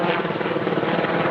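A helicopter drones steadily and loudly in the foreground, its broadband rotor and engine roar filling the whole moment without a break.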